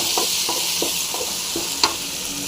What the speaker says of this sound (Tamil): தக்காளி சேர்த்துட்டு இது நல்லா ஃப்ரை பண்ணிங்க